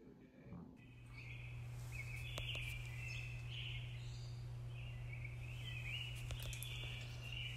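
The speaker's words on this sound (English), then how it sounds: "I don't know if you can hear it, but they're chirping." Birds chirp outdoors in repeated short bursts over a steady low hum, moderately close and fairly faint, with no talking.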